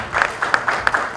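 An audience at a film song launch event claps for a singer, a short burst of brisk, close applause with distinct individual claps punctuating the wash.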